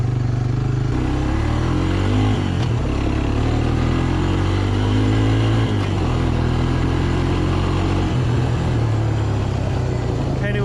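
A Honda TRX300 4x4 quad engine runs continuously while riding, its motor rising and falling in pitch as the throttle shifts, loud and close throughout.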